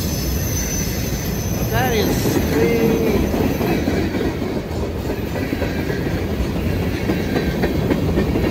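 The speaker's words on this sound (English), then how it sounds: "The train should be ending pretty soon." Train rolling along railway tracks on a foggy morning, a steady loud rumble throughout with brief wheel squeal early on, close by, while a person speaks briefly over it.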